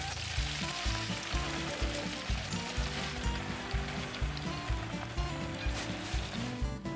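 Washed gongura leaves frying in a pan with half a teaspoon of oil give off a dense, constant sizzle and crackle. Rhythmic low thumps run beneath it, and no voice is heard.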